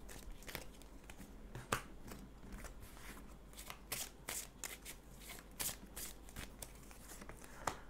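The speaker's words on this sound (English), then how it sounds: "Just be patient a moment as I draw the cards for you." Tarot cards being shuffled and drawn in a quiet room, a steady run of soft riffling and papery slides broken by several sharper snaps and flicks as cards are pulled and laid down, close and fairly quiet, with no talk.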